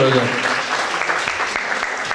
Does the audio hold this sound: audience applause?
yes